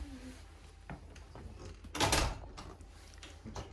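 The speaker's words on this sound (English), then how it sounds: "let's shut that door so we don't let all the cold out" A cottage door is pulled shut with a single firm thump near the middle, following a few faint knocks and rustles in a quiet room.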